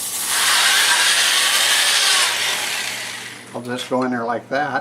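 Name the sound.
hand sanding a multi-axis wood-turned bowl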